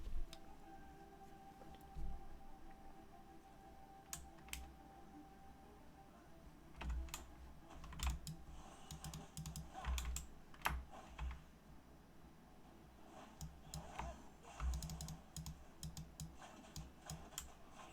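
Clicky mechanical keyboard switches typing in steady irregular bursts of sharp clicks, close and moderately loud, with no talking.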